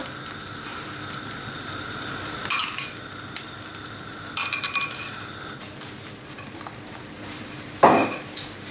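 Omelette sizzling in sesame oil in a pan, a steady close hiss of frying with a few sharp utensil clinks and scrapes rising above it.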